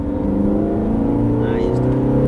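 A Ferrari F430 accelerating out of a corner on the Jarama race circuit, its engine note a steady, loud drone with rising harmonics heard from onboard, mixed with a voice talking throughout.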